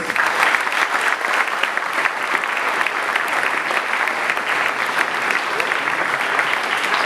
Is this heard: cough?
no